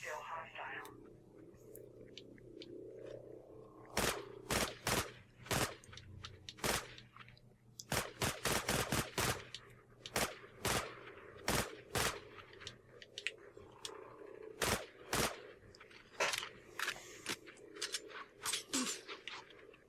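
Rifle gunfire in the shooter Dust 514, sharp cracking shots in irregular bursts and rapid clusters, fairly close and loud over a low steady background hum.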